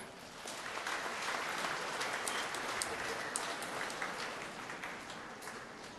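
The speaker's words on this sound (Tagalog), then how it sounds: "sino na sa inyo ang nasaktan ng todo, pumalakpak ng malakas?" A congregation at a church homily claps in a sustained round of crowd applause, heard faint and somewhat distant, with voices mixed in.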